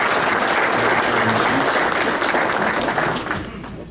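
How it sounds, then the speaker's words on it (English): Hearty applause from a lodge audience of brethren for the Grand Lodge candidates, a dense continuous clatter of many hands that holds steady and then fades out at the end. "Brethren, I'll ask you for a hearty round of applause for our candidates."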